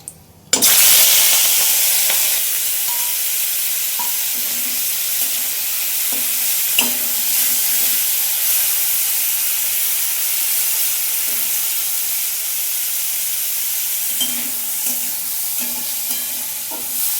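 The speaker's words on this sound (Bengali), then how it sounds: "চিংড়ি মাছটা আমি ভাজবো, এই জন্য কড়াইয়ে বসিয়ে দিয়েছি" Prawns fry in hot oil in a wok with a loud, dense sizzle from start to finish, broken by occasional clicks of stirring close by.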